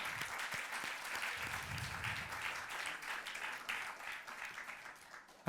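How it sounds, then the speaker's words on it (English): An audience at a Hindustani music concert gives steady, moderately distant applause that continues evenly for several seconds before a sudden sharp sound at the very end. "A big round of applause for Pravin."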